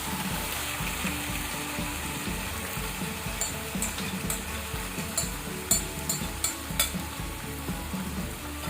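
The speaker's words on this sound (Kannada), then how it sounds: "ಈಗ ನಾವು ಇದಕ್ಕೆ ಮ್ಯಾರಿನೇಟ್ ಮಾಡಿಟ್ಕೊಂಡಂತ ಸೀ ಫುಡ್ ಅನ್ನು ಸೇರಿಸಿಕೊಳ್ಳುವ" Marinated seafood sizzles and fries in a pan of fried onions, a steady close crackle with occasional stirring clinks, no talk.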